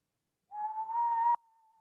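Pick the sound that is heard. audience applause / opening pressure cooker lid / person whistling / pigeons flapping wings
person whistling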